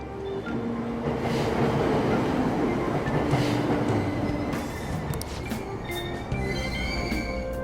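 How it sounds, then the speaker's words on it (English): A subway train in the video game Persona 5 Royal rumbles along steadily with rhythmic clickety-clack of wheels on rails, a close, continuous rolling noise with faint metallic squeals near the end. "Train doors are now closing. Please stand back."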